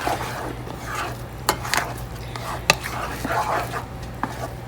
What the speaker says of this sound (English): I'm going to give that a mix.